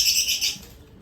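Pet lovebirds give quick, high chirps and tweets while pecking at soft food, a short burst of bright calls close by that fades out after half a second.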